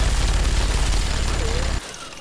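Fast automatic gunfire from a weapon in Fallout 3, a loud rapid stream of shots that stops abruptly near the end.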